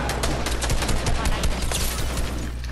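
Automatic gunfire in a video game, a fast, loud, continuous rattle of shots filling the whole stretch, close and unbroken.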